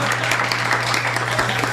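An audience applauds at a book reading, a short continuous burst of clapping under a steady low hum, fairly loud and without talk.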